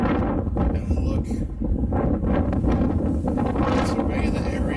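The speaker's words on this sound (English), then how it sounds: "Man, it's windy." Strong wind gusts buffet the microphone outdoors on a cold winter day, producing a heavy rumbling roar that rises and falls, with someone talking over it.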